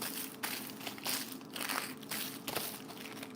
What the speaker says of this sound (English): And then what you do is you crumple it.